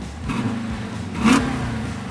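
A Dodge Charger Hemi, a former police car on its stock exhaust, revs up close and loud, with a low engine note swelling into a sharper blip partway through.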